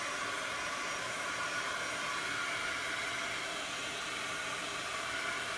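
Blow dryer running continuously up close while drying a homemade craft piece, a steady broadband airy roar with no talk over it.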